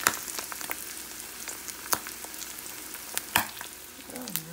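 Eggs fry in a hot pan on a home stove for a budget breakfast, crackling steadily with sharp pops scattered throughout, close and fairly quiet, no talking.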